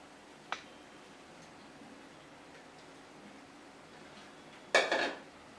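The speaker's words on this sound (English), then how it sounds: "Then you stir gradually until it has mixed properly with the soup." A utensil stirs Afang leaves into soup in a pot in a natural Nigerian kitchen. Two faint metallic clinks sound against the pot, one early and one sharper near the end, over a quiet room.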